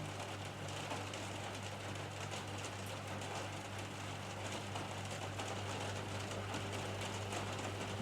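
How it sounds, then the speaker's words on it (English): Steady rain falls continuously as an even, soft hiss over a low background hum, with no voices or other distinct events. "Maybe you can listen to the sound of the rain, and that helps you to relax."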